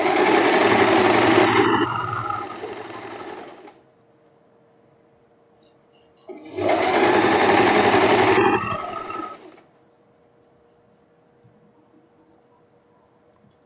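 An industrial overlock serger with a newer-style presser foot runs in two loud bursts of stitching, each about three seconds long, with a quiet pause between them and no talking.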